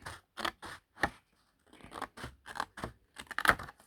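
Scissors cut through paper while making a junk journal calendar: a close series of crisp snips and tearing cuts in irregular bursts, with no talking.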